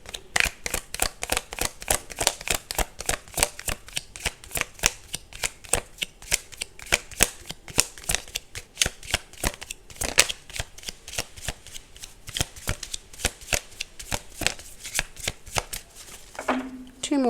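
Tarot cards being shuffled, steady crisp riffling flicks repeating in a quick irregular rhythm for over fifteen seconds, close and fairly quiet, with a brief tonal sound near the end.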